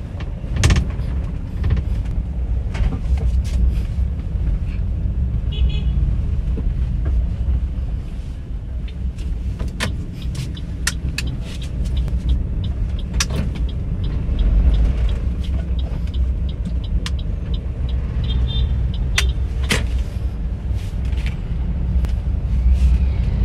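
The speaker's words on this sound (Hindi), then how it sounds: "गाड़ी हमने निकाल ली है, अब हम निकल रहे हैं आगे।" A car pulls out of a hospital parking area and drives off, with a steady close engine and road rumble heard from inside and scattered small clicks and knocks over it.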